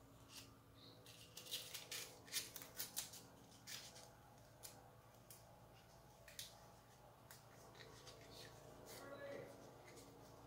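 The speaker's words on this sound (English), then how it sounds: "I'm going to cut off the extra paper." Scissors snip extra paper off a paper tube in a quick run of crisp cuts, followed by sparser snips and light paper rustling, while a voice talks faintly in the background.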